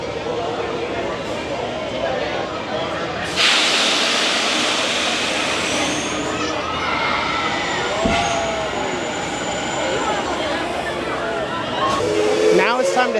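Amusement park train at Knott's Berry Farm rumbling past near Fiesta Village, a broad continuous roar with a squeal and a sharp clank partway through, while crowd chatter and voices sound faintly around it.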